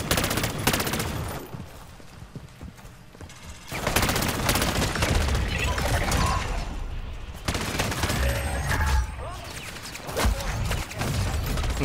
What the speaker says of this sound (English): Let's get this turret started